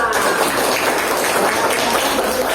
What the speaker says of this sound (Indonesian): silakan tepuk tangan sekali lagi untuk kelompok 2